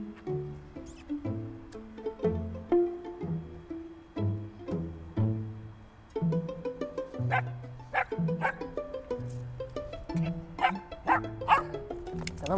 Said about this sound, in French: Ça recule, ça aboie, ça grogne un petit peu.